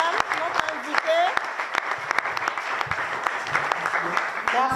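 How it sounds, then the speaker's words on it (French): A ceremony crowd claps for an invited woman guest, a dense, continuous patter of hands lasting several seconds, with voices calling out over the clapping. "Acclamons pour madame, notre invitée."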